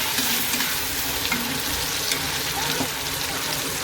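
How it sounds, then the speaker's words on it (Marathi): Chopped onion sautés in a pan for pav bhaji, a close, steady frying sizzle with occasional stirring scrapes and clinks running throughout. "कांदा असा लालसर होतो चांगला परतून घेऊया."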